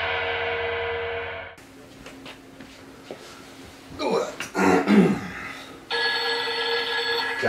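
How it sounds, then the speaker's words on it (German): A telephone rings with an incoming call in two loud, tonal bursts, one at the start and one near the end, separated by a throat-clearing, coughing and brief talking. "Anruf von Hollywood, schau."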